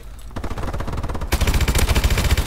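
Rapid automatic gunfire from a remote turret in Call of Duty: Advanced Warfare, a steady stream of close, loud shots that swells in intensity midway through, with no talking.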